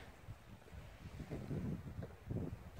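Wind gusts buffet an outdoor microphone with low, rumbling bursts that rise and fall irregularly, faint overall and without voices.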